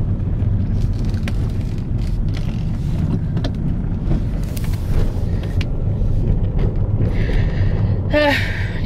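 Car driving along a road, a continuous low engine and tire rumble from inside the cabin with some wind noise, a few light clicks and a brief higher tone near the end.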